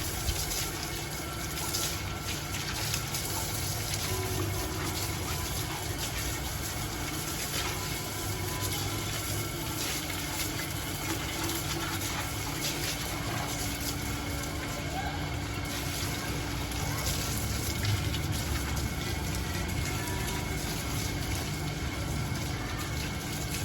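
Water trickles and gushes steadily as it drains through holes in the bottoms of plant pots in a Pakistani garden, a continuous wet wash throughout with faint background hum.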